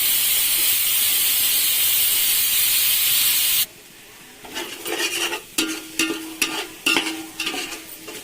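Mutton biryani masala sautés in a heavy-bottomed pot: a loud, steady sizzle and hiss gives way to quieter frying broken by a series of sharp stirring scrapes and clatters.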